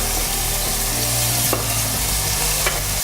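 Diced bacon, onion, garlic, crushed chili and chorizo fry in a pan with a steady, close sizzle and occasional stirring scrapes, no voices.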